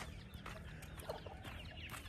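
Chickens clucking softly nearby amid a busy farmyard background, with scattered short calls over a continuous low ambient rumble.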